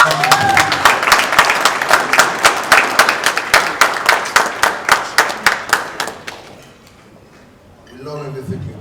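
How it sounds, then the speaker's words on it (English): Audience applause at a conference, a general meeting in Lagos, with loud, steady clapping and some cheering from a large crowd for about six seconds, then a brief quiet before voices return. "I want you to give him another resounding round of applause."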